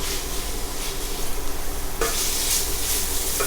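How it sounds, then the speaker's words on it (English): Peppers stir-fry in a hot pan for Rasta Pasta, giving a constant loud sizzle with occasional scraping stirs and a sharp surge of hissing partway through. "go ahead and get your peppers in. Alright, stir fry these up for about a minute."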